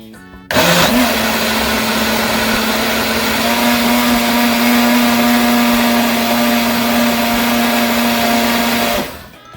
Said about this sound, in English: Blending up.